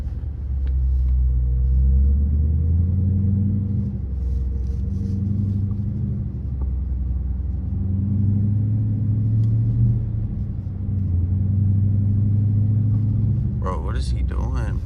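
A 2020 Dodge Charger R/T with a mid muffler delete rumbles with a deep, droning low exhaust tone that swells and eases in slow waves throughout, heard from inside the car, with a brief voice near the end.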